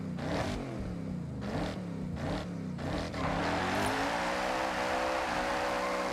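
A V8 car engine in the video game Forza Horizon 6 revs hard to 8,000 rpm, its pitch climbing steadily to a high, sustained roar, loud and continuous.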